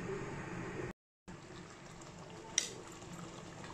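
A pot of sambar with vegetables simmers on the stove, giving a soft, steady bubbling hiss. The sound drops out briefly, and one small clink is heard.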